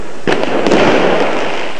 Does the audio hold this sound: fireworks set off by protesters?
yes